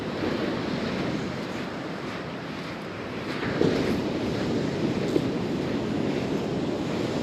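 Ocean surf rolls steadily onto an Outer Banks beach at Kill Devil Hills while wind buffets the microphone, a constant loud wash with no voices.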